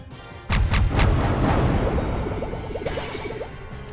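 Flak barrage weapon fire in the space strategy game Halcyon 6: a burst of heavy booming shots followed by a rolling rumble and a quick rattle of smaller pops, loud and close.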